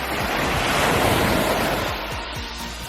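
Calm, clear sea water in Greece washing gently against the shore, a steady broadband surf wash with wind noise buffeting the microphone, close and continuous with no talk.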